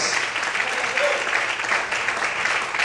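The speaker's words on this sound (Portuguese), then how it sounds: "Você pode aplaudir o Senhor essa noite." Church congregation applauding during an evening service, a steady, dense wash of clapping that fills the whole stretch at an even level with no pauses.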